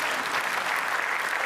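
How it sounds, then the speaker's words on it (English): Steady, dense applause from an audience at an online service launch event, a short continuous wash of clapping with no pauses. "give them a big round of applause"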